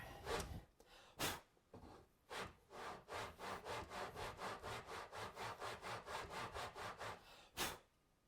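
A hand file rasps rhythmically across a wooden sword blade in a long run of close, even strokes, with a few heavier scrapes and audible breathing between them.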